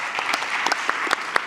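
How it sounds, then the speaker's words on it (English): A panel session on network resilience closes with a brief burst of audience applause for the panel, dense, close and steady, with a few sharper individual claps. "A round of applause for our panel,"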